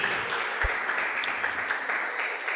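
A church congregation applauds the Lord during an evening service, a steady wash of clapping that carries on evenly from start to finish with no voices standing out.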